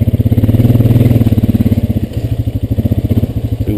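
A Honda Rancher 420AT ATV engine chugs close and loud in a fast, even pulse while log crawling, its throttle dipping briefly mid-way before resuming.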